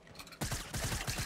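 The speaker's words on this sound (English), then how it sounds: "Whoever's shooting, can you stop?" Rapid automatic gunfire erupts in Fortnite Battle Royale after a brief quieter lead-in, with steady rhythmic shots in a loud, fairly close burst and no talk.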